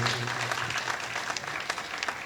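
Audience applause at a 35th anniversary event for a dance school, a dense, steady clapping crowd filling the room for a couple of seconds with no talk over it.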